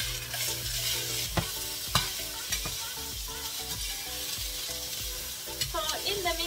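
Onion and other vegetables sauté in a hot pan, a bright, steady sizzle with a spatula scraping and tapping the pan at irregular intervals, close and clear, no speech.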